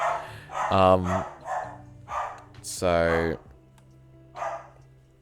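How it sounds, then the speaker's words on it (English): A pet dog barks loudly nearby in a home, with two strong barks plus a few shorter yips and whines, and a person talks briefly between them. "My dog's still going crazy for some stupid reason."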